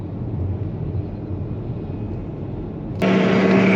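A tractor engine rumbles steadily and low throughout during silage cutting on a farm in Cheshire, UK, then turns suddenly louder and harsher near the end.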